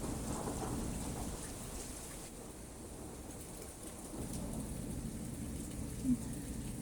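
Steady rain falls in a cozy fantasy setting by a fireside, with faint rumbles of thunder, a continuous moderate wash of drops on a surface throughout, and no voices.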